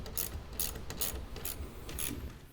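A ratchet clicks in quick, even strokes while tightening the nut on a car battery terminal in a Ford Bronco, close and moderately loud, with no one talking.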